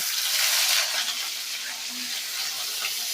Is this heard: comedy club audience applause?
no